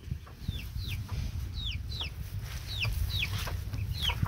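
Backyard chickens clucking with repeated short, high chirping calls at a fairly even pace over a low rustling background, faint and somewhat distant.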